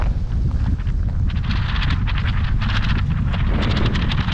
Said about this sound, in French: Donc, toujours du vent